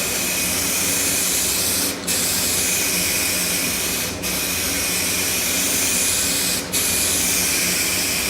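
An aerosol can sprays a light coat of fluorescent green paint in a loud, continuous close-up hiss, broken by three brief pauses as the nozzle is released.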